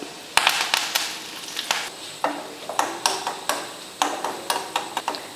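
Chopped garlic and curry leaves crackle and sizzle in hot oil with mustard seeds for a tempering, with irregular sharp pops and spits over a soft fizzing bed; no talking.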